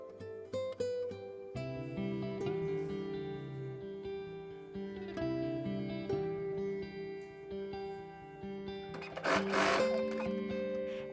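A sewing machine runs a zigzag stitch along a folded 3 cm hem on a pair of shorts, its motor whirring in steady bursts with brief pauses, close and fairly quiet, with no talk.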